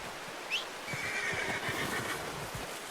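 A horse in the Red Dead Redemption 2 video game gives a short, bright whinny, set over a soft, steady clip-clop of hooves that carries on quietly after the neigh.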